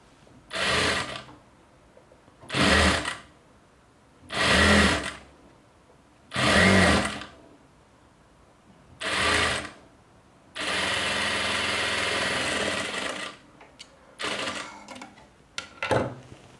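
A sewing machine stitches blouse fabric in repeated short whirring runs separated by pauses, then one longer continuous run and a few brief bursts, close and clear.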